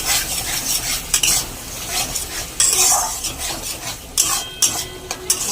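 Spice paste for pabda fish curry is stir-fried in a pan with a loud, close sizzle and repeated metallic spatula scrapes and clanks against the pan in uneven bursts.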